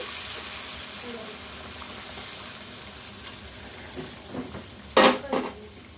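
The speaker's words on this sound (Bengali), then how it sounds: "দেখো আমি পাশে গরম জল বসিয়ে রেখেছিলাম, আমি গরম জলটা ঢেলে দিচ্ছি।" Hot water poured into mutton frying in a wok, a soft steady sizzle that ends in a loud splashing hiss near the end, close by, with clinks of a pan.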